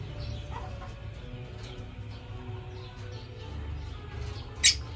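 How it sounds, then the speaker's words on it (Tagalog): A group of ordinary lovebirds kept as pets in a shared cage gives soft chirps and clucking calls under a low background hum, with one sharp, loud squawk near the end. "Ito yung mga regular na lovebird guys."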